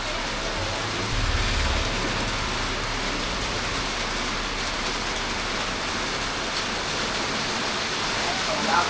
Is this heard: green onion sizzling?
no